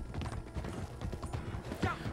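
Horse hooves clip-clop in a steady trotting rhythm in the Red Dead Redemption 2 Online video game, close and continuous with a short whinny near the end, under a game soundscape with voices.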